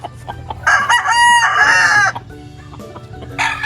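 A rooster crows loudly and close by, a drawn-out call followed by softer clucking and a second crow starting at the end.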